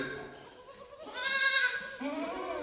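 Goats on a goat farm bleat in a few wavering, nasal calls close by, one louder and longer than the rest, over faint ambient farm noise.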